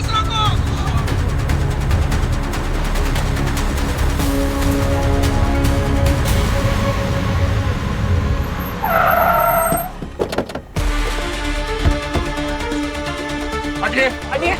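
A bus skids with loud, sustained tire screeching and engine roar, close and dominant, broken by a brief squeal burst and sharp impacts, while shouting voices cut in.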